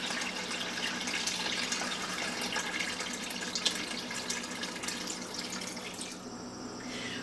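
Filtered water streams from a tap into a cooking pot, a steady hissing splash lasting several seconds that thins out and stops near the end, with no talking.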